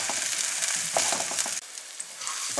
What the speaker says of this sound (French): On va faire revenir l'ensemble.